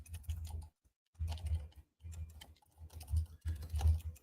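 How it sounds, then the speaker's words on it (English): Clicky keys on a computer keyboard are tapped by hand in quick, uneven bursts separated by short pauses, close and fairly quiet. "So now I'm typing it out by hand."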